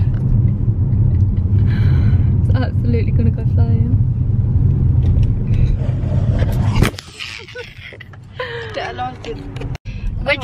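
Steady low road rumble inside a moving car carrying two passengers, loud and continuous for the first seven seconds, then quieter and lighter as the drive continues, with people chatting throughout.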